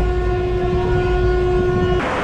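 Passenger train from Azimganj to Krishnanagar running onto the Narsinghpur bridge, its loud sustained horn blaring close by over a heavy rumble, then cutting off into the rolling clatter of the carriages.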